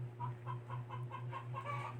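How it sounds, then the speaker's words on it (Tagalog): Chickens cluck in a steady run of short, repeated calls over a constant low mechanical hum. "Saba sa mong manok eh."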